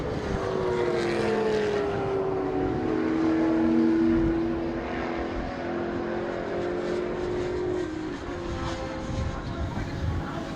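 A Radical race car pulls out of the pit lane during an endurance race at Rockingham, its engine note rising then sliding in pitch as it passes, with a commentator speaking over the background noise.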